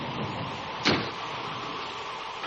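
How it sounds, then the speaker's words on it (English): A single hollow thump of a door knocked against a house by the wind, fairly faint, with a steady low rumble around it. "That's just the wind banging a door"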